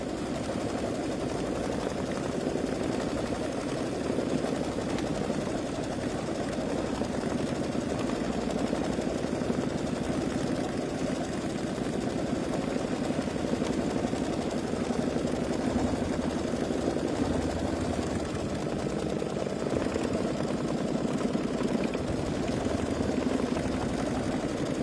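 An embroidery machine stitches an in-the-hoop quilting design, producing a steady, continuous mechanical hum and whir with fast rhythmic stitching that stays even and alone throughout.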